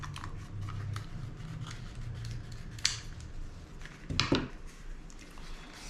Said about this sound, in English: You're just going to take your scissors, you're going to cut this out nice and open.